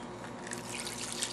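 Orange and soy sauce marinade is poured over chicken tenders in a Ziploc bag, making a soft, continuous liquid trickle and splash close by.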